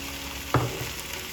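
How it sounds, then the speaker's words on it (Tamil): Chopped tomatoes drop into a hot pan for paneer butter masala, setting off a brief burst of sizzling against a steady low frying hiss. "சேர்த்துட்டு தக்காளி நல்லா வதங்கணுங்க."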